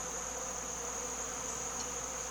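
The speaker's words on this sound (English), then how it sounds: "there's the hornet. It's chasing bees now." Hornet and honeybees buzzing around a sugar syrup feeder, a steady close insect drone with a high whine running through the whole stretch, no voices.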